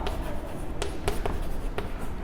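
Chalk or a marker taps and scratches on a classroom board in short, irregular strokes, close and moderately loud, with no speech.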